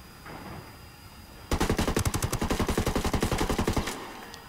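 A rapid burst of automatic gunfire fired through a wall in the video game Ghost Recon Wildlands, roughly twenty evenly spaced loud shots in a steady rhythm lasting a couple of seconds.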